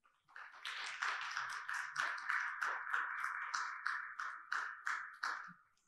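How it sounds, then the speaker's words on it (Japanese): A crowd at a Japanese partnership agreement signing event between Peach Aviation and Tokyo University of Agriculture claps in a steady, fairly loud burst of applause lasting several seconds, with individual sharp claps standing out before it tapers off. "会場の皆様、登壇者の皆様に改めてあの大きな拍手をお願いいたします"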